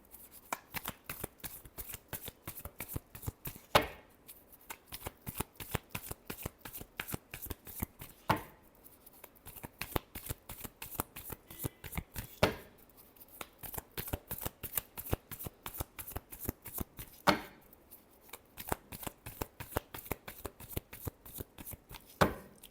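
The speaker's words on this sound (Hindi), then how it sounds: "last shuffle" Tarot cards being shuffled by hand in long runs of rapid, riffling flicks, close and clear, broken by a few brief pauses between shuffles, with no voices.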